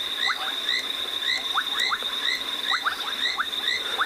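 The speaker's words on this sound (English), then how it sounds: "we've been enjoying the sounds of the frogs here" Frogs call at night in the wild on a South African game reserve, their repeated chirps and croaks overlapping in a steady chorus over a constant high insect drone, with no talking.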